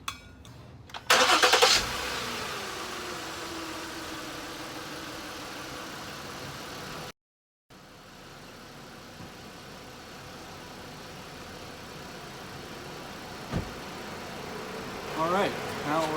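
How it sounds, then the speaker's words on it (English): A car engine cranks and catches, then settles into a steady, close idle, broken by a brief cut-out and a few faint knocks later on. "I apologize for the noise, but once again that vehicle is running"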